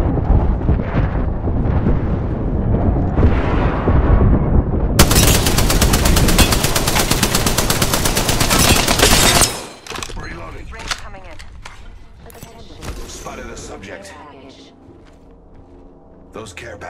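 Rapid video-game gunfire bursts out loud and dense for several seconds, with heavy mixed game noise before and after and speech running through parts of the clip.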